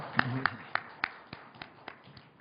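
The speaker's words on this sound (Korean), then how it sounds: "다시 한번 하나님께 큰 역사 박수 드릴까요?" A church congregation claps during a worship service, a faint, evenly spaced run of about ten claps that softens toward the end.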